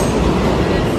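A subway train runs through the New York metro as a steady, loud rumbling roar with broadband rail noise. No voice is heard over the brief stretch.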